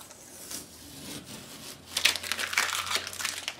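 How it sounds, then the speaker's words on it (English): A tape hinge is peeled off a vinyl wall decal, giving soft crinkling and rustling that starts faint and sparse, then grows into denser, louder crackly tearing near the end. "I'm going to remove my tape."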